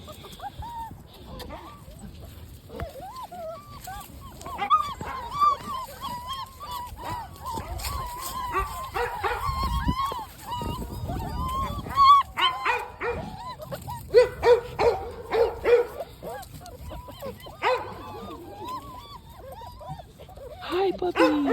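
Five-week-old puppies yip, whimper and let out small barks throughout, a busy overlapping chorus of high squeaky cries with an adult voice talking to them in between.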